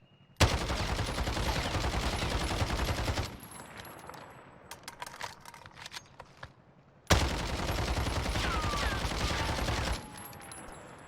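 A CR-56 AMAX assault rifle with a 30-round magazine fires in the Warzone video game: two long, loud, rapid automatic bursts, separated by a quieter gap with scattered clicks and clatter.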